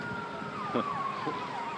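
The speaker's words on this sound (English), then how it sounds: "Here comes more sirens." Distant police sirens wail faintly at the scene of a police shooting, their pitch sweeping up and down against steady outdoor background noise.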